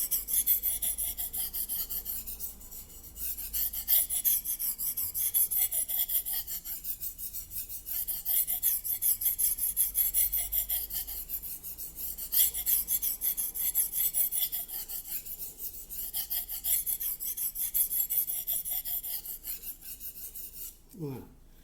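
A Racer M knife being sharpened on a Japanese whetstone, with continuous close rasping strokes repeating in an even back-and-forth rhythm at moderate loudness, brief pauses between passes, and a sharper knock at the very end.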